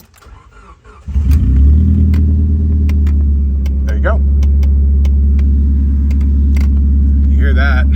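A Rambler American car engine cranks, catches and settles into a loud, steady rumbling idle close by. Someone says a few words over the running engine.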